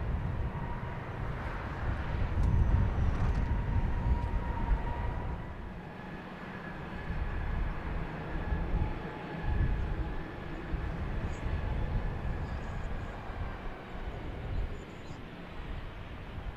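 Airliner rolling on the runway after landing at Madeira Airport, a steady broad roar of engines and rumble heard from a distance, swelling and easing over several seconds with faint talk.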